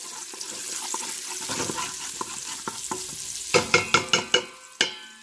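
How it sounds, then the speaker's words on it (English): Garlic sautés in hot oil with a soft, crackling sizzle under light taps of a utensil, ending in a quick series of sharp clanks against the pan. "I'm heating up my oil and I'm putting in my garlic. I'm going to saute my garlic."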